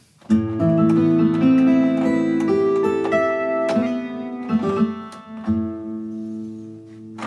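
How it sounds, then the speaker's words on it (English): Bright, shimmering 12-string guitar sample played on a keyboard rings out in sustained strummed chords with a chorus-like doubled sheen, played steadily with no voices. "I can get a 12-string guitar"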